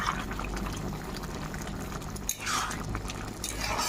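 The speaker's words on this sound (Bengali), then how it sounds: "এবার খিচুড়িটিকে ভালো মতো নেড়ে দেব।" Vegetarian khichuri boiling in a pot as it is stirred, giving a soft continuous bubbling and wet stirring sound, close and fairly quiet.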